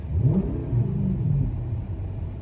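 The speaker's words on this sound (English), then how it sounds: "I also did a rear muffler delete because it was just a little too quiet for the fun" A 2007 Infiniti FX45 V8 with its rear muffler deleted revs up, giving a deep, loud rumbling engine note that swells and holds, close by with no talking.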